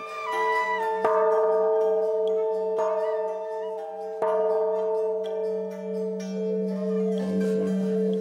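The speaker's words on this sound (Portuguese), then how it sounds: "Tocar o sino do século XVII para convocar a comunidade." A seventeenth-century bell at the Thai Vi temple in Tam Coc, Vietnam, is struck to summon the community, ringing with several clear strikes whose long, humming tones overlap and slowly decay, with no talking.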